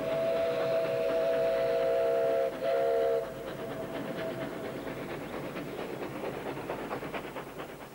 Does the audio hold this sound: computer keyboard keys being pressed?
no